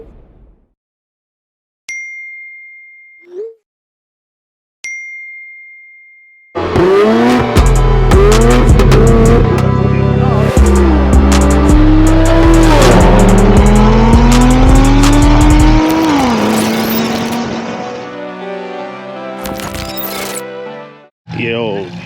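A car is revved hard and slid into a drift, its engine roaring loud and close with rising, falling pitch over a long stretch of tire squeal, after a few quiet beeps at the start.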